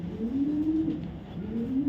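Racing pigeons coo in a low, soft, rolling call that repeats twice, close and steady against a quiet room background, with no talking.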